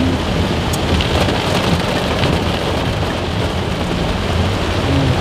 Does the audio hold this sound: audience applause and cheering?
no